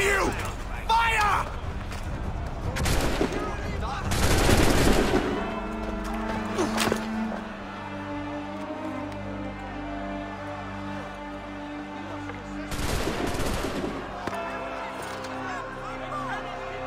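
Gunfire volleys in the Assassin's Creed 3 video game, several loud bursts of shots spaced apart amid battle noise and music, with voices heard in between.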